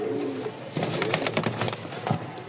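A pair of Lakka pigeons cooing up close, soft throaty coos repeated in a quick uneven series with faint rustling between them.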